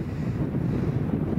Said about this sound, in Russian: О, вот сейчас вообще ветер, то, что надо.